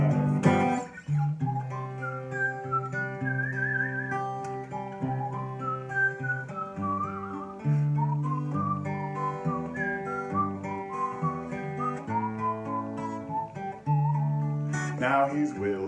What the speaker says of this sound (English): We can all hear him whistle and laugh